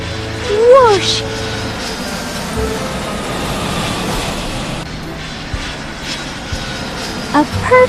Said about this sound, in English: That white plane is loud.